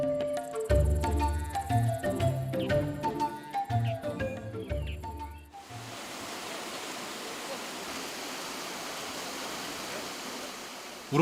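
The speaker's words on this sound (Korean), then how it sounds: "우렁찬 폭포 소리가 퍼집니다." Waterfall roaring into a deep pool in the Eolgol ice valley gorge at Miryang, entering after music fades out and then holding as a steady, loud, broadband rush of falling water with no talk.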